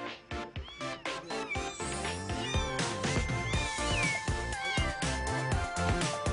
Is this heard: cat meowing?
yes